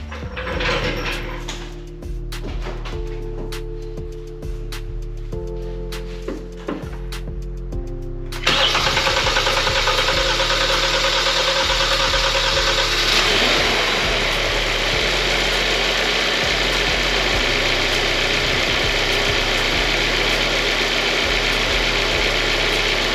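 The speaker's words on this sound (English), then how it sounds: "Let's give it a test start." A 2015-2020 Hyundai or Kia car engine cranks hard with a rhythmic starter whine for several seconds before catching with a surge, then settles into a steady, close idle.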